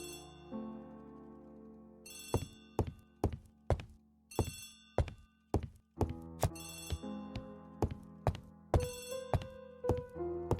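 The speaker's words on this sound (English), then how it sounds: "Poirot, the telephone." A telephone rings in repeated bursts of bright metallic bell tones, loud and close, with short gaps between the rings and soft thunks among them, set in the Agatha Christie The ABC Murders video game.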